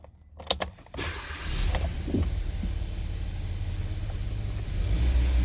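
A car being restarted right after being switched off, with a jangle of keys and clicks followed by the engine catching and settling into a steady close idle rumble.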